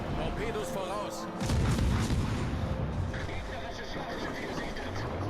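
Naval gunfire from a ship's battery in World of Warships: Legends, a low booming burst around the middle that stands out over dense game noise, with a voice speaking throughout.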